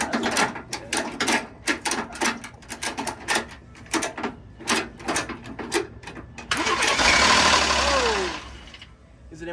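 A salvage truck's engine cranking in a rapid uneven chugging series, then catching and running with a rough idle, loud and close, with people talking.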